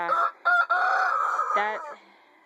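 Chickens clucking and a rooster's crowing-like call, fairly close, in a few bursts over two seconds.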